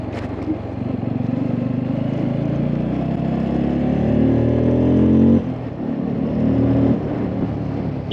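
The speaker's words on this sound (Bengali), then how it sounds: "আর বাইকের পালসার N250 নিউ ভার্সনটা, যেটা আমার 2025, সাউন্ডটা এত স্পোর্টি একটা সাউন্ড।" A 2025 Bajaj Pulsar N250 motorcycle ridden on a narrow hill road, its engine droning steadily and close with a brief rise in revs, then a shift in tone partway through, with no talking.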